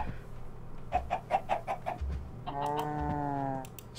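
Chicken sounds in the Minecraft modpack SkyFactory 3: a quick run of about six clucks followed by a longer, drawn-out squawking call, close and clear over low background hum, no speech.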